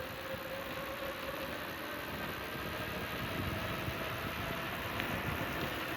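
A Totguard e-bike's electric motor runs on full throttle without pedal assist climbing a hill, a steady mid-level whir and hum with broadband road and wind noise, constant and unbroken.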